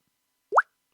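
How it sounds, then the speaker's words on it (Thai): A single soft, rising pop, short and clean against complete silence, a button hover sound in computer-aided lesson software. "นี่เป็นเสียงปุ่มนะครับ เมื่อเอาเมาส์ไปชี้ก็จะมีเสียง"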